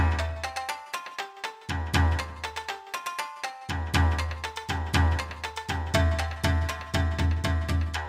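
The sushi jingle from the Wii pizza-ordering channel: bright and upbeat with a bouncy bass line and chiming melody, playing in short looping phrases with brief pauses between them.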